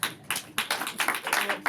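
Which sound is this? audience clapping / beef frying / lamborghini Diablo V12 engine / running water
audience clapping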